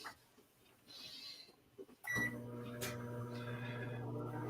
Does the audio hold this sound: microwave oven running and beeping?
yes